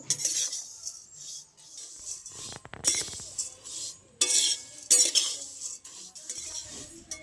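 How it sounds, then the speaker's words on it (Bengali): Flattened rice (chira) dry-fried in a pan is stirred continuously, giving close scraping and clinking bursts of the spatula against the metal between brief quiet gaps. "চিড়েটা কিন্তু অনবরত নেড়ে যেতে হবে"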